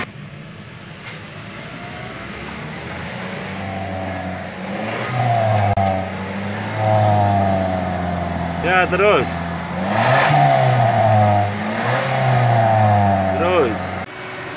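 The 2.0-litre engine of a 2012 Mazda Biante fitted with an HHO fuel saver is revved repeatedly as the gas is pressed. Rising and falling engine surges sound close, under someone talking.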